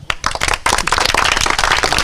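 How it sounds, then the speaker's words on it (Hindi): An audience bursts into clapping, starting with a few sharp claps and swelling into loud, dense applause from many hands close by. "ताली बजाइए आप लोग।"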